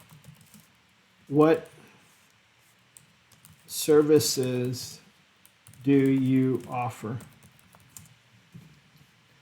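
Computer keyboard typing clicks away quietly beneath a person's voice as they speak in short phrases, the keystrokes soft and fairly steady throughout.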